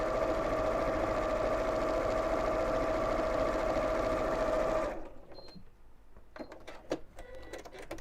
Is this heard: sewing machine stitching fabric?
yes